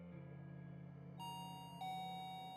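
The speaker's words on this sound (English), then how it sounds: "The doorbell rings again" A doorbell rings as two clear chime tones a half-second apart, fairly faint over a low steady hum, with no talking.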